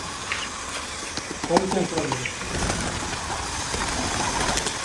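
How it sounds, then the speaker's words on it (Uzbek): Kept pigeons at a country dacha coo softly in the background amid a steady ambient hum, with a person talking over them. "mana qushlarni boqilyapti"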